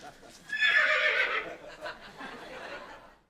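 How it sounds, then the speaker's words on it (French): A horse whinnies loudly and close for about a second, then trails off into softer snorting noises, with background murmur and light laughter around it. "C'est un cheval, Steve?"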